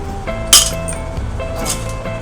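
Pieces of recycled stained glass window clink together, one sharp bright clink followed later by a softer one, over a low steady background hum.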